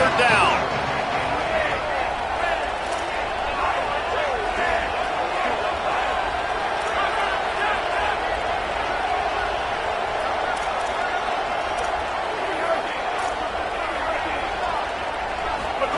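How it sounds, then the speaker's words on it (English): A football stadium crowd roars steadily during a college game between Ole Miss and Miami on third down, a dense sustained wall of cheering with faint claps and thuds, while a commentator talks over it. "Crowd getting this defense whipped up on 3rd down."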